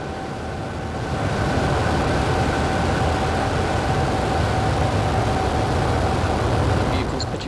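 A SpaceX Falcon 9 rocket lifting off on a Starlink launch, its engines building within a second into a loud, steady, rumbling roar that holds evenly before easing slightly at the end.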